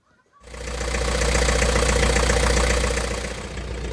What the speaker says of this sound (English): the engine running perfectly again